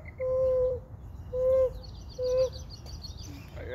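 Three clear, steady whistled bird notes repeat at even intervals, followed by fainter chirps in the distance outdoors.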